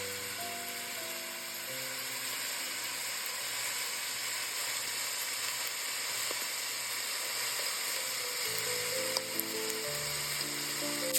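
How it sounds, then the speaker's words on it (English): Onions gently fry in two to three teaspoons of olive oil in a pot for vegan chili, a continuous close hissing sizzle that stays steady throughout, with a faint tonal hum in the background and no talking. "added the onions and I let it gently fry together"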